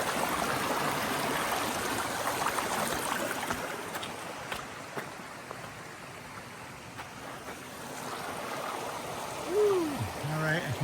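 Water streaming over a water feature near the Kennebunk river makes a moderate rushing babble close by, with scattered splashes and a brief high whistling sound near the end.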